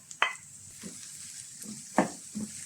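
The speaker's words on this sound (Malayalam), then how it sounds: "ഇതിൻ്റെ അകത്തേക്ക് നമുക്ക് ചെറിയ ഉള്ളി കട്ട് ചെയ്ത് കൂടി ഇട്ട് കൊടുക്കാം" Chopped small shallots go into a pan of softened onions for a crab roast, giving a quiet, steady sizzle with a few louder stirring scrapes and clinks of a utensil against the pan.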